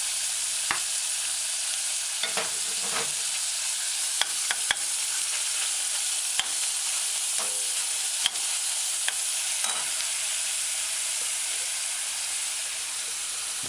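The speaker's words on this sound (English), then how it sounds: "add your chopped scallion. 10 seconds later, add your mashed garlic." Chopped scallion and mashed garlic sizzle steadily in a hot pan for a chicken, mushroom and coconut stew, a continuous bright frying hiss broken by occasional scrapes and stirring taps, close and without talk.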